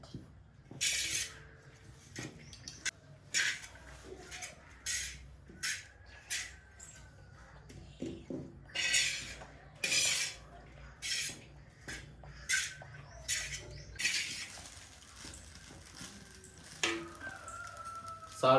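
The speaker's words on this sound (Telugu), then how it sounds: "ఇప్పుడు రైస్లో ఈ విధంగా మిక్స్ చేసుకోవాలా" A utensil scrapes and tosses fried rice in a pan in a home kitchen, about a dozen short scraping strokes in an uneven rhythm, close but fairly quiet.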